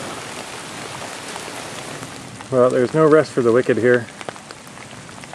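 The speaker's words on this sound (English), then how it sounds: "It's still raining" Steady rain falling at a canoe trip campsite, a constant close hiss of drops on surfaces that runs throughout, with someone speaking briefly over it in the middle.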